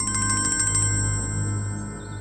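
A phone rings for an incoming call with a rapid, pulsing electronic ringtone that repeats several times, then holds as a sustained tone over a low hum, fairly close and with no talking.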